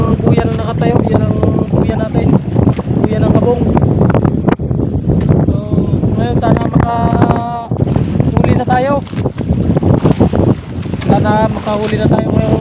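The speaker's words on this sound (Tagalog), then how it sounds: "Yung malakas pang hangin at ang alon, medyo malalaki." On a small fishing boat at sea at night during tuna fishing, strong wind roars and buffets the microphone without a break, while waves wash and slap and someone talks over it.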